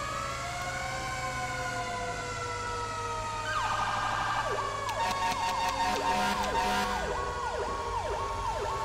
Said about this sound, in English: I hear another fire truck somewhere.